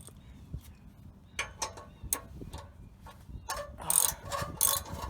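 A hand ratchet clicks in short bursts while a bolt is screwed back on under a 2013 Toyota Camry SE during a muffler delete, close and fairly quiet, with a few faster clattering strokes toward the end.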